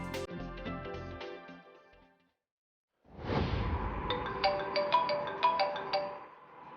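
A smartphone rings with an incoming call, a melodic electronic ringtone that starts loud and fairly close, then fades to silence before a second, brighter ringing tune with repeated chiming notes follows.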